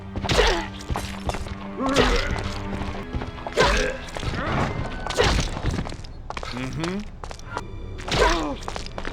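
An axe strikes zombies in the survival horror game Resident Evil Outbreak File 2, a series of heavy thunks at roughly even intervals, with grunts and other game noises in between.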